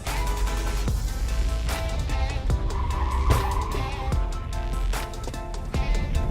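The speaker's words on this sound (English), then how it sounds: "That's some pretty aggressive driving." A car driven aggressively with harsh braking and cornering gives off loud, continuous tire squeal and skidding with engine noise, close and sustained throughout.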